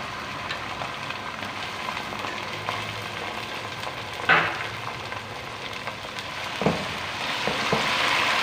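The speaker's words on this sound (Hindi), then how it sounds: "यहाँ पे लहसुन अदरक का पेस्ट डालेंगे" Garlic ginger paste sizzles in hot oil with pink-browned onions for biryani, a steady crackling fry with a couple of sharp spatters as it is stirred, close and without talk.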